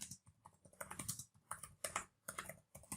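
Bursts of keystrokes on a computer keyboard while entering LaTeX in the Overleaf editor, coming in quick irregular clusters separated by short pauses, close and fairly soft, with no voices.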